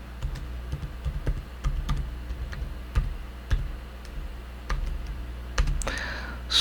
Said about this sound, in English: So I'm gonna type in a password, MySQL root password.